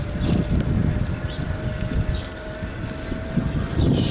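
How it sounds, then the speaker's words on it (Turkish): Strong gusty storm wind buffets the microphone throughout, a constant low roaring rumble with a faint steady tone beneath, in Plankstadt, Germany. "Oo, fırtına var fırtına."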